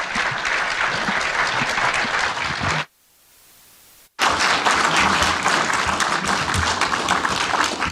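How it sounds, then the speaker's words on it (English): Loud, dense applause from an audience at a Dublin silver jubilee gathering for postgraduate studies in applied spirituality, honouring two doctors. The clapping drops out abruptly for about a second, then resumes just as full. "Can you please join me in giving them both a huge round of applause?"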